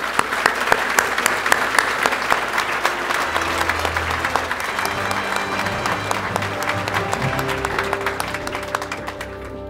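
An audience at a hardware and building-materials trade awards gala in Quebec gives sustained applause, dense, loud and close, with faint voices underneath and the clapping fading toward the end.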